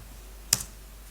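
A single sharp keystroke on a computer keyboard, one crisp click standing out against a quiet background hum.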